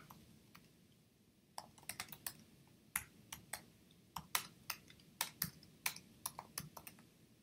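Someone types programming code on a computer keyboard, sparse irregular clicks of individual keys, fairly close and quiet against a soft room hush.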